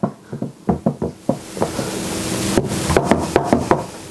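Pecan square crust is patted firmly into a baking pan in a run of dull, close knocks, about a dozen, fairly loud and uneven, over a steady background hiss.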